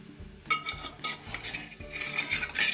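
Sorakaya sarwapindi, a Telangana bottle gourd rice flatbread, is turned and flipped while roasting in a pan, giving soft scraping and clinking of a utensil against the pan over a faint continuous sizzle, close and fairly quiet, with no voices.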